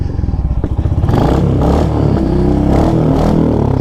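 A Royal Enfield Hunter 350 single-cylinder motorcycle fitted with an aftermarket Diabolo exhaust pipe thumps at idle, then revs up under acceleration, loud and close with a throaty, pulsing exhaust note.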